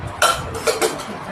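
A small saucepan is handled among kitchen cookware, giving three quick metallic clinks and knocks over a quiet room.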